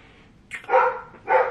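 A dog barks twice, two short sharp barks close by with a brief pause between them, loud against a quiet background.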